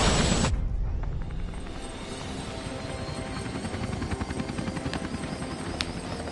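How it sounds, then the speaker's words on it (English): Video game helicopter spinning up after a sharp start, its rotor chop building into a loud, steady rhythmic thumping with engine whine, heard alone without talk. "And stealthily steal this helicopter."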